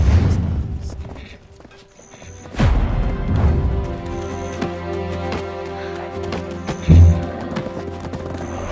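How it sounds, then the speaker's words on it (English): A horse in the video game Black Desert Online gallops across an open field, with rhythmic hoofbeats and a whinny, heavy impacts and a music bed, and a voice speaking over it. "Try sprinting across an open field on the back of a horse."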